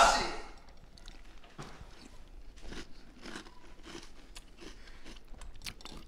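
Crispy sweetened cereal crunches in a few sharp bites during a cereal tasting before a live audience, each crunch close and distinct amid quiet pauses and faint breathing.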